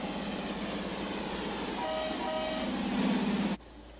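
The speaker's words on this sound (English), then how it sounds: "Now we gotta wait for a freight train to pass from Norfolk Southern." A Norfolk Southern freight train passes nearby with a steady rumbling roar and brief tonal squeals or horn-like notes, then the noise cuts off abruptly near the end.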